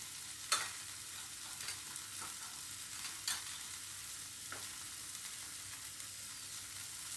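Egg do pyaza masala with Kashmiri chili powder is stirred in a pan, giving a soft continuous sizzle with a few sharp spoon scrapes and clicks at intervals, fairly quiet and without talk.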